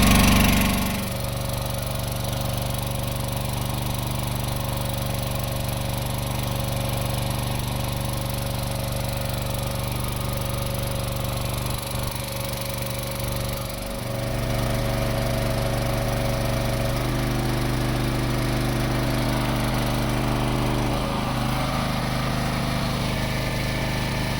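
A Champion 7 kW gas-petrol generator runs on petrol with a loud, steady engine drone and a constant hum throughout, its tone shifting slightly partway through as the load changes.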